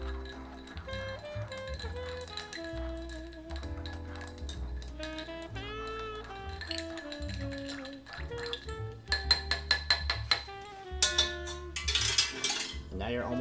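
Cocktail ingredients get stirred with ice in a glass, a busy run of clinks and ringing taps that grows brisker and louder toward the end, heard over steady background music.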